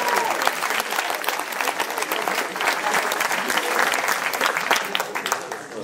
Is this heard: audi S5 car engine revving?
no